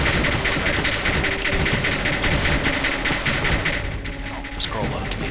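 Loud, continuous explosions from the strategy video game Creeper World, a dense crackling barrage of rapid bursts and thumps that keeps up throughout, close and busy.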